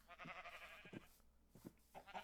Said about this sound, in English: Mostly sheep.